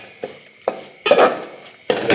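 A spoon stirs prawn masala in a metal pan, making several close, irregular scraping and clinking strokes with a soft sizzle between them.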